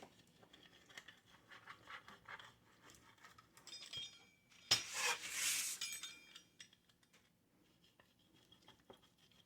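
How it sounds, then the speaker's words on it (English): A pizza cutter rolls across low carb tortillas in several short, scratchy passes, then a louder, denser scraping burst. Faint clinks of utensils are scattered between the cuts. "Now, you take a pizza cutter."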